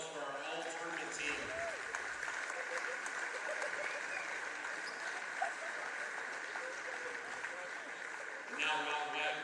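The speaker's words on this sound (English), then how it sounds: "One more round of applause for our all tournament team." Crowd applause in a high school basketball gym at a holiday tournament championship, continuous clapping and cheering throughout with an announcer's amplified voice speaking over it at the start and end.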